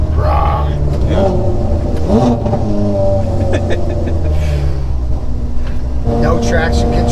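Sports car engine idling and blipping with its exhaust valves open, a loud deep rumble with rising revs, under people talking.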